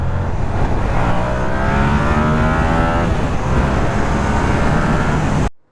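A Yamaha R7 motorcycle engine is revved hard, a loud continuous roar with rising and falling pitch sweeps, close to the listener, with no talk and a sudden cutoff at the end.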